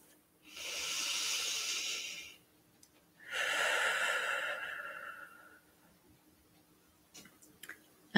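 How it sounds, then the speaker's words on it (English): A person draws a deep, slow breath in and then releases it in a long exhale during a calming tapping routine, both breaths clear and close with quiet pauses around them. "And take a deep breath."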